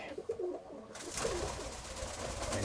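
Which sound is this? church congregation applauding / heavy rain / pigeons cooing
pigeons cooing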